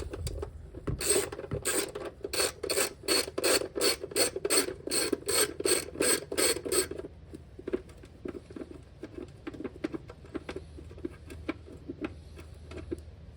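A ratchet works a 10 mm bolt loose on a firewall bracket of a third-generation Toyota 4Runner, with a fast run of crisp, rhythmic clicks followed by slower, scattered clicks and scraping handling sounds.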